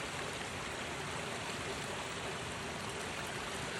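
A mountain waterfall and stream on a mossy hiking trail, its cold water rushing in a steady, even roar with no pauses, fairly faint and heard alone.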